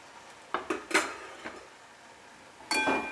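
Cut potatoes and drumstick pieces tipped into a cooking pan: a handful of sharp clattering knocks in quick succession, a lull with faint background hiss, then another clatter near the end.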